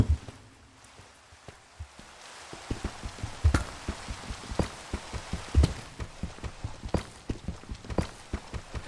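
Rain falls in the Minecraft video game as a steady hiss, with many sharp, irregular taps and thumps scattered across it at moderate loudness, and no talk.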